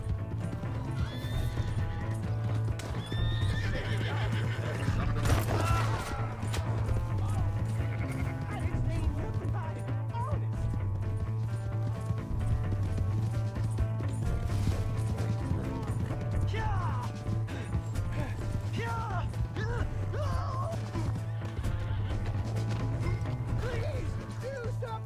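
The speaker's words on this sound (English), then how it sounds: "Hey, that's my horse!" A horse in the Red Dead Redemption 2 video game whinnies loudly several times over steady galloping hoofbeats, with music, crashes and shouting voices mixed throughout.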